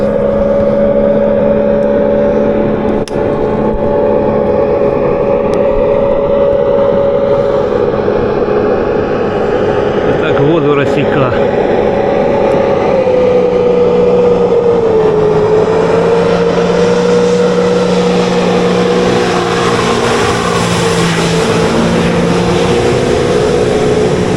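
A motor watercraft passing on the Psel river, a loud steady engine drone with a shifting pitch that dips and swells as it goes by, continuous throughout with no talk.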